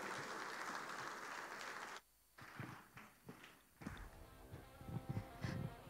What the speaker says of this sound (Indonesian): kita berikan tepuk tangan sekali lagi untuk Ketua Umum HDCI, Bro Ahmad Saroni